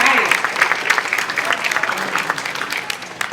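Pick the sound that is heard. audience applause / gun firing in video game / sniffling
audience applause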